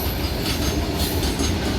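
A fast goods train rushes past on railway tracks, a loud, steady roar of rolling wagons and wheel rumble with no voices over it.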